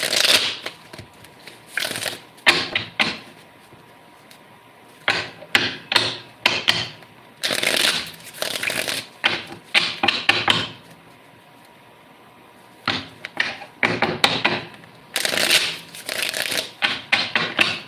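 Tarot cards being shuffled in repeated bursts of riffling and tapping, with short pauses between rounds, close and fairly loud.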